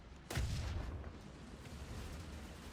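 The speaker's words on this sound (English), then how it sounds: "Artillery fire, that is not good." Artillery fire in a video game opens with a single loud, heavy boom that swells and rolls away into a long rumbling tail over steady background noise.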